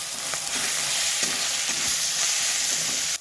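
Small chuno fish fry with chili powder and salt in a pan, giving a close, continuous sizzle with faint taps and scrapes of stirring before it cuts off abruptly.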